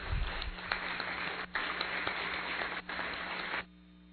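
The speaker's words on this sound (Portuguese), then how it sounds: "esta homenagem se faça através da nossa mais calorosa salva de palmas" Warm applause fills a formal solemn session hall, a dense continuous clapping from an audience that holds steady for several seconds and then cuts off abruptly.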